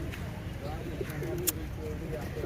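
Pigeons coo softly amid the low murmur of the busy Tollinton pigeon market in Lahore, Pakistan, where golden pigeons are on display. Voices and crowd bustle run beneath the repeated cooing.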